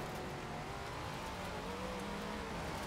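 A muscle car engine in the Forza Horizon 4 racing game drones steadily throughout, a constant mid-level rumble with faint tire noise and no clear passes or revs.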